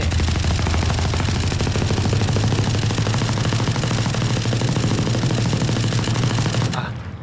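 A rifle in Valorant fires in one long, loud, unbroken automatic burst, its fire rate climbing from about ten to thirteen rounds per second, before the shooting cuts off near the end.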